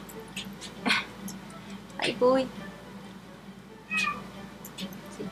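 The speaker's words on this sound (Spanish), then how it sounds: "Eso que escucharon, si es que lo escucharon, son mis gatas. Que me están pidiendo comida." Pet cats meowing for food, several distinct plaintive meows spaced a second or more apart, close by, while a person speaks briefly in between.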